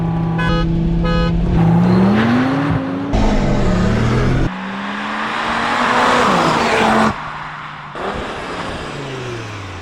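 An Audi RS3 and a Mercedes-AMG A45S launch from standstill on wet ground, engines revving loud and close, rising through gear changes with sharp upshift breaks and a steady climbing roar.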